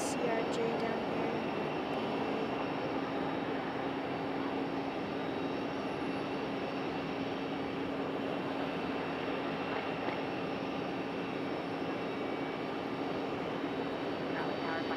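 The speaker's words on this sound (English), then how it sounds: "CRJ down here." A CRJ regional jet at Raleigh-Durham airport, heard as a steady broadband engine roar that holds at an even level throughout, with a faint tonal hum beneath it.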